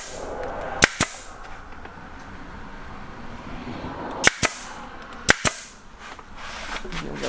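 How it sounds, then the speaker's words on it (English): Staple gun fastening carpet onto a wooden boat trailer bunk, firing four or five loud, sharp snaps: a pair near the start, then two more pairs later, over a low hum of background noise. "Now we're going to again staple this down here."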